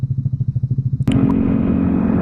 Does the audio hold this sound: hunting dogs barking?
no